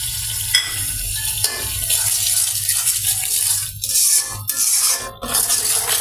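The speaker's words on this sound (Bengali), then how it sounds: "মশলাটা ভালোভাবে কষিয়ে নিই।" Spices with turmeric, chili powder and salt frying in a pan, a steady bright sizzle broken by a few short scraping stirs, close and continuous with no voices.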